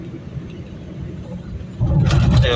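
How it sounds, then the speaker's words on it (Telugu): A Maruti Brezza car passes on a road beside a dirt track. A low engine rumble swells sharply partway through as the vehicle draws near. "కారు వెళ్తుంది కదా బ్రీజా కార్"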